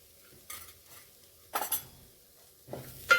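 A spoon stirs spices into a pea paratha filling in a pan, giving three short bursts of scraping and clinking metal against the pan, separated by quiet pauses, close and fairly soft.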